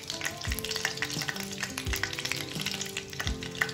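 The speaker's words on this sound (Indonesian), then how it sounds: "aku tumis bumbunya." Spice paste for a tuna gulai sizzles in hot oil, a dense close crackle with low scraping strokes of a spatula stirring it roughly every second and a half.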